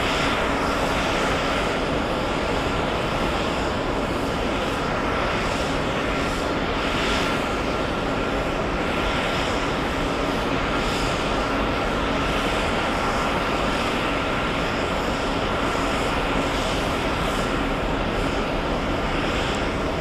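An airliner roars down the runway on its takeoff roll at JFK airport, bound for Los Angeles, a loud, continuous jet rumble with broadband hiss and wind buffeting that holds steady throughout.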